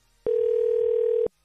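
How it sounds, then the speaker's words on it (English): A telephone call produces one steady electronic ring tone lasting about a second, loud and clean, starting and stopping abruptly with no voices. "Oh, this one rings too."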